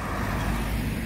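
Steady road traffic rumbling around a busy roundabout in Nîmes, France, with continuous car and truck engine noise forming an unbroken, fairly loud wash and no distinct passing vehicle standing out.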